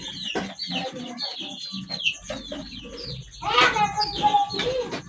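A stressed fighting rooster clucks and calls in short repeated bursts close by, with someone talking over and between the bird's sounds.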